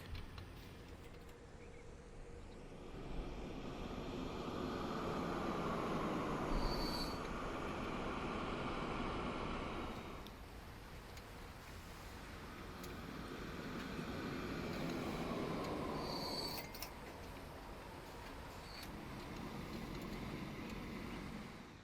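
Several trains in a New Zealand South Island rail-building game, including grain trains, roll along an eastern line with steady rumble and wheel squeal, swelling and easing as they pass, no voices.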